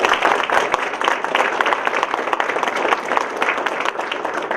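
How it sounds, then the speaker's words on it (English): An audience applauds at a county government event, a dense, steady patter of many hands clapping for several seconds without pause. "I ask you all to give them a round of applause."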